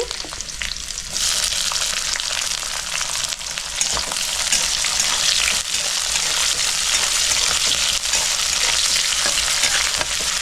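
Garlic and onion fry in a pan while being stirred, giving a loud, steady, close sizzle with the scrape of a spatula and no talk.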